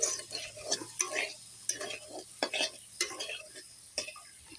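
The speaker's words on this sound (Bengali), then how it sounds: "এর মধ্যে তেল দিয়ে দেবো আর একটু ভেজে নেব ভালো করে" Food frying in oil in a pan while being stirred, a steady close sizzle broken by repeated scraping and clinking strokes of a utensil against the pan.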